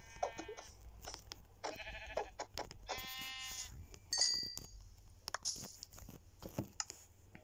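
Several bleats from sheep in a Minecraft survival game, wavering calls repeated across the stretch, mixed with clicks and chewing-like noises, fairly close and with no talk.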